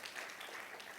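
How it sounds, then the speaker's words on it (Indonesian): A church congregation applauds at a Sunday worship service, a steady wash of many hands clapping at once, soft and somewhat distant, with no talk over it. "Yang percaya saja beri tepuk tangan untuk Tuhan Yesus"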